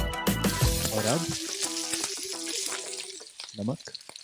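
Tadka spices crackle and sizzle in hot oil in a home kitchen, a close hiss with bright pops, while people talk over it throughout.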